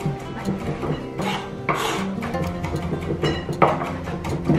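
Seasoning is mixed and chopped into vegan garlic and herb soft cheese with pepper, producing scattered soft scraping and tapping of a utensil against a bowl in short bursts, moderately close with faint kitchen background.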